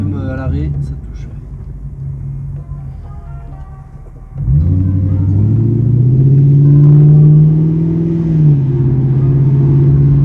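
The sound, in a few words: Lexus LS400 engine revving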